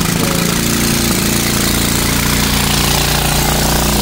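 A four-seat go-kart's small engine runs loud and close with a harsh, rapid rattling exhaust note from a faulty exhaust, steady throughout without pauses.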